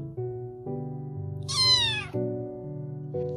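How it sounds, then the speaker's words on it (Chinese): A hungry orange kitten gives one loud, drawn-out meow over a steady background of music, sounding insistent and close. "我家的猫咪肯定是饿了， 叫得这么厉害。"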